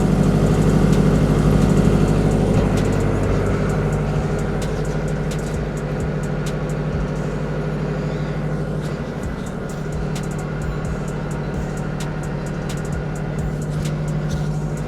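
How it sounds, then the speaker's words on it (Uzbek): A 50 kW Weichai diesel generator running steadily, a loud continuous engine drone with a strong low hum and even mechanical clatter, heard up close with no pauses and no voices. "Generatorimiz ishlab turgan holatda"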